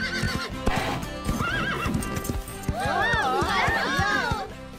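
A horse's hooves thud in a quick galloping rhythm while the animal whinnies and neighs loudly several times, with people talking over it, in the animated series Horseland.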